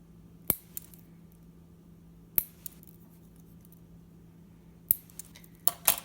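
Zip ties being snipped with sharp, close clicks, about five cuts spaced irregularly over a quiet background hum.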